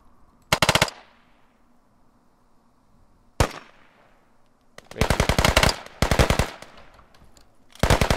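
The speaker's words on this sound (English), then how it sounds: "Man, that gun sounds good." Automatic rifle fire in the military game Squad: a short burst, a single crack, then several longer rapid bursts, loud and near, separated by quiet gaps with faint echo.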